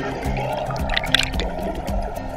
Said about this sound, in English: Hook and release Estream into running water.